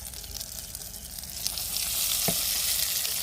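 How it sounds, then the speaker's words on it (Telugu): Tomatoes, green chillies and onions fry in a pan at a solo campsite, making a steady close sizzle with a brief stirring scrape part way through. "టమాటాలు, పచ్చిమిరకాయలు, ఆలోచన ఉల్లిపాయలు బాగా వేగేసినాయి"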